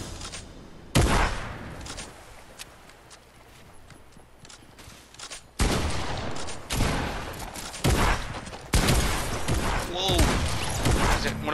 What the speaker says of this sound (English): the guys up top are shooting at me